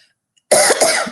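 A single loud, close cough bursts out after a brief silence, breaking into a few harsh rasping pulses over about half a second with no speech around it.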